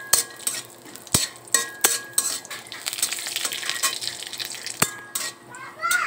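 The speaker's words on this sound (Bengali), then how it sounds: "এখন আমি এখানে কাঠবাদাম, কাজু বাদাম আর কিশমিশগুলা দিতেছি ভাজার জন্য" Almonds, cashews and raisins fry in hot ghee in a wok, a crackling sizzle punctuated by repeated metallic clanks of a spoon against the pan, close and busy.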